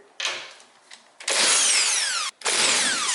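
A power tool whirs in on the nuts of a BMW E92 335xi strut tower brace. After brief short bursts come two long, loud, close runs, with the pitch sliding as the nut spins off and a short gap between the runs.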